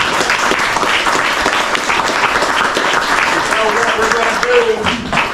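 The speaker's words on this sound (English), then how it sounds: "let's give these anglers a big round of applause" Loud, sustained applause from the audience at a crappie fishing tournament championship, with dense crowd clapping continuing steadily throughout.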